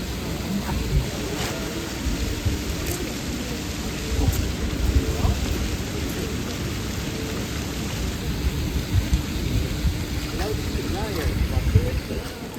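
Heavy rain pours with thunder over streets in Salzburg, Austria: a steady, dense roar of rainfall with deep rolling rumbles underneath, continuous across the whole stretch.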